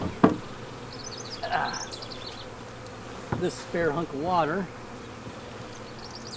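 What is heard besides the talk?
swarm of honey bees being hived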